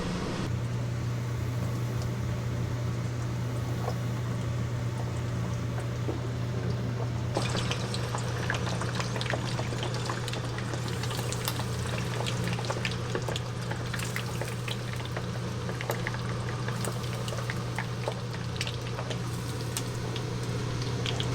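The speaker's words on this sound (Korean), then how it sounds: "자 이제 새우를 튀길 건데 새우는 정확히 7초만 튀기도록 하겠습니다." Steady crackling sizzle of shrimp deep frying in hot oil, getting busier and louder partway through, over a constant low hum.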